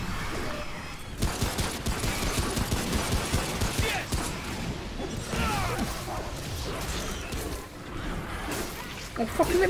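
Sustained automatic gunfire in the shooter game Remnant: From the Ashes, dense rapid bursts with impacts and whooshes, loud and close throughout, with a player talking over parts of it.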